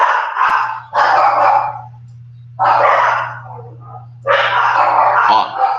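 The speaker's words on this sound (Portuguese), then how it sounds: "Ô, cachorrada." Dogs barking in a series of loud, close yaps and barks, separated by short pauses, over a low steady electrical hum.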